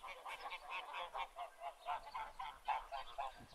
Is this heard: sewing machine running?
no